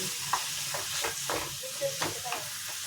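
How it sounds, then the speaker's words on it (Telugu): Minced chicken keema frying in a pan, with a steady sizzle under repeated scraping stirs of the spatula at an uneven pace, close and moderately loud. "ఇది వేగంగా పొడి పొడిగా అవుతా వస్తుంది. ఇది బాగా వేగాలి."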